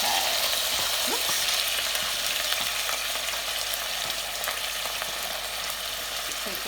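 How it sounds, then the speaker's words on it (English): Leek fries briefly in a pan, giving off a continuous moderate sizzle with faint clicks and small scrapes scattered through it and no voices. "briefly fry up the leek"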